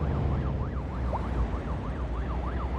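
A police car siren from the city-building video game Cities: Skylines 2 wails in a steady up-and-down pattern over a constant low rumble of traffic, moderately loud, with no talking.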